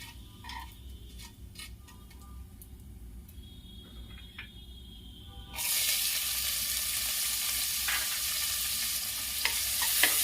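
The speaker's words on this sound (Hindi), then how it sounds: "1 तेजपत्ता डाल रही हूँ और प्याज डाल दूंगी।" Onion and a bay leaf drop into hot oil already fried with cumin and asafoetida, the quiet pan bursting into a loud, steady sizzle that holds to the end, with small clicks and stirring sounds on top.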